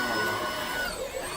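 A Tineco vacuum cleaner runs with a steady high whine and airy suction as it pulls up dirt and debris from a floor, close up over a short stretch.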